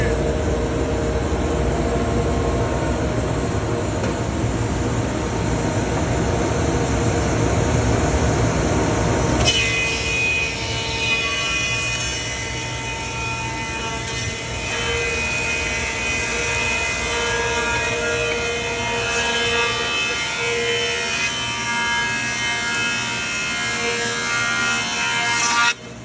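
A Lobo 25-inch double-sided helical planer runs loudly and steadily, its drone shifting in tone partway through as a wooden board feeds in and gets planed, with no talking.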